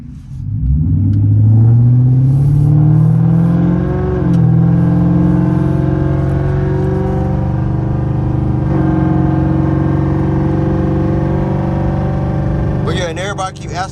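The exhaust of a 2010 Mitsubishi Lancer, set up catless with no mufflers and an X-pipe, revs and pulls hard from inside the cabin. A loud, raspy drone climbs in pitch, eases off, and holds a rumbling cruise.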